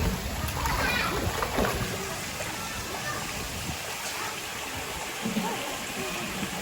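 A child splashes and swims in a kiddie pool, with uneven watery sloshes and splatters close by, while people talk over the water sounds.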